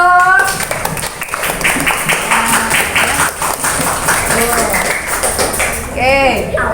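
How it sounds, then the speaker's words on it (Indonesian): Children in a classroom clap their hands together in a brisk burst of scattered claps mixed with excited young voices and chatter, close and fairly loud. "Kasih tepuk tangan dong"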